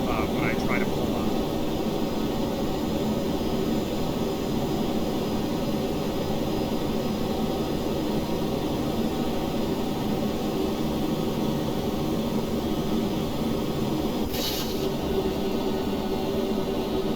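Spaceplane engines drone steadily during a climb in Kerbal Space Program with liquid fuel in closed cycle mode, a continuous broadband roar under a talking voice, with a brief sharp tone near the end.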